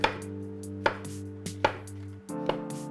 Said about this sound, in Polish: Zaczynamy od krojenia pieczarek.